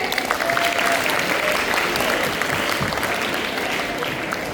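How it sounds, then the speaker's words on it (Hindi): Audience applause at a Hindi kavi sammelan poetry gathering, a dense, steady wash of clapping that fills the whole stretch at even loudness with no voices on top. "तो एक बार वापस इनके लिए तालियां बजाते हैं।"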